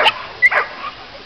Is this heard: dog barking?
yes